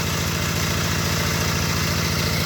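An old Kubota ET80 single-cylinder diesel, about 30 years old, runs near full throttle on a front-three flywheel pulley in a rice field, its steady, loud, rapid low thumping continuous and close with no other sound.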